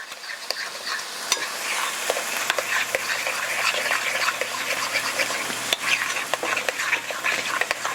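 A spoon stirring a wet lasagna filling mixture in a bowl, producing soft squelching and scraping strokes with small clinks against the bowl over a faint steady background hum.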